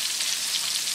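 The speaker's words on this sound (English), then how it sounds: "I finished frying all my salmon" Steady, close sizzle of salmon frying in hot oil, a dense crackling hiss throughout.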